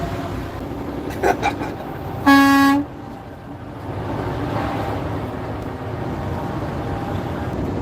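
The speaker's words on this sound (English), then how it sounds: "I'm honking at this one." Truck horn blasts once, loud and sustained for about half a second, from a vehicle in the People's Convoy in Ohio, over steady road and engine rumble with a few faint toots just before.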